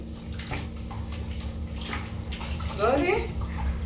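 Water splashes and pours over a Shih Tzu during its bath, with a louder gush near the end, while voices talk throughout.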